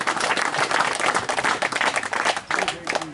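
An outdoor audience claps steadily to thank people at a World Environment Day event, a dense wash of many hands that stays fairly loud throughout the clip.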